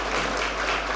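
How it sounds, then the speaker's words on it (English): Sustained applause from an audience greeting the Secretary for Education, Dr. Christine Choi, at a research summit, a dense, steady wash of many hands clapping with no talk over it. "Let's give her a round of applause."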